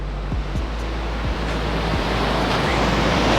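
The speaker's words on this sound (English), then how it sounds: "People are surfing out here. The waves are extreme" Ocean surf breaks and churns along the beach at Salinas, Ecuador, where people are surfing: a steady, loud roar of rushing water with wind buffeting the microphone and no voices.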